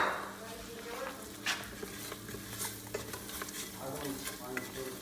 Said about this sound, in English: Toast the curry with some ginger and garlic.